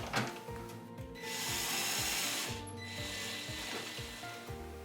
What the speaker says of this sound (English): Install the hinge in the top and bottom corner. Careful to not over torque the screw.